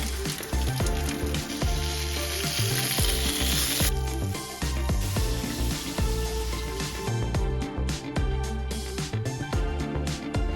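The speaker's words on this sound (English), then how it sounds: "that is how you make some bin sausage sizzle" Sausages frying outdoors on a cold winter day, a dense continuous sizzle close by with clicks and scrapes from stirring and turning the meat.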